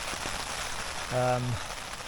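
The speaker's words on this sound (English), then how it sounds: "I'll wait for this band of rain to hopefully go" A band of rain falls on a tent during a wild camp in the Welsh mountains, a steady close hiss of drops on fabric with a brief tonal sound partway through.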